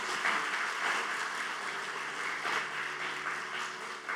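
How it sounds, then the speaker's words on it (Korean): Church congregation clapping in blessing of a new member at a Sunday worship service, a steady moderate wash of applause heard at some distance in a reverberant hall. "우리 축복하는 박수 하도록 하겠습니다"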